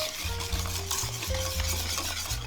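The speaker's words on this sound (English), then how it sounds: "we're going to whisk this together until it's all incorporated" Eggs and sugar are whisked together in a pot off the heat, a busy rhythmic scraping and clattering of the whisk against the metal sides, close and continuous.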